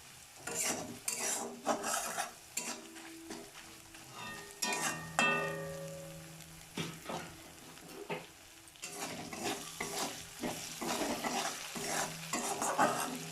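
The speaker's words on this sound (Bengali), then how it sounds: "তো ততক্ষণ আমি একটুখানি মশলাটাকে কষিয়ে নিই।" Spice masala being stirred and fried in a pan for a Bengali vegetarian doi potol, with repeated scraping strokes of a spatula over a soft sizzle, close and fairly quiet, rising and falling with each stir.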